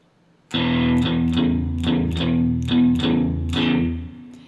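Distorted electric guitar chugs through a steady blues shuffle in E, repeated chord stabs in an even rhythm, loud and close with no voices.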